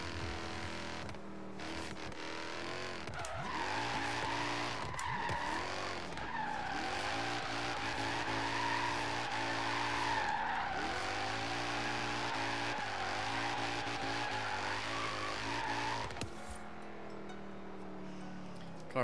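An LSX-swapped wide-body BMW E46 drifting in Forza Horizon 3 roars with a wavering, rising and falling engine note under continuous tire squeal, loud and close, easing off near the end.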